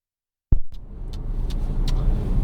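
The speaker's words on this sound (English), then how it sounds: "Let's get in the car." A car engine starts up with a sharp onset and then settles into a steady, loud idle rumble, close by and with no talk over it.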